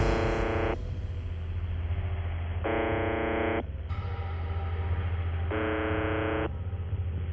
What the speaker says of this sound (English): An enigmatic radio broadcast that no one claims to run has been transmitting a monotonous droning sound like this one